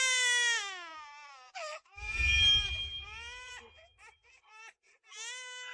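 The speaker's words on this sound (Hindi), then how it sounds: "बच्चा रो रहा है।" A baby cries in wavering wails with short breaks, loud and close, while a person speaks briefly in the middle.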